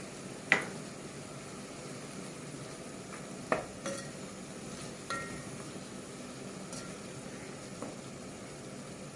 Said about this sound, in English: Then I'm just going to mix it a bit, give it a very nice stir.